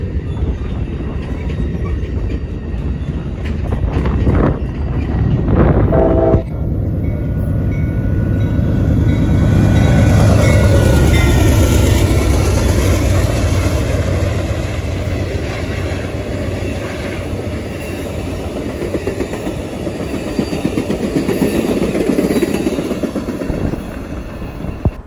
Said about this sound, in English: Amtrak 5, the California Zephyr, approaches the station for its station stop